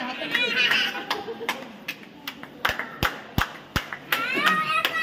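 Children clap their hands at a science city in Digha: a run of sharp, uneven claps, some loud and close, mixed with excited kids chattering and talking over them.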